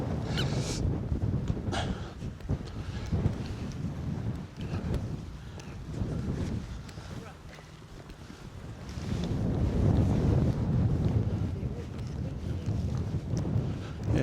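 Strong wind buffets the microphone during a 45-mile bike ride to the Forest of Dean, a continuous roaring rumble that swells and eases across the whole stretch with no talk over it.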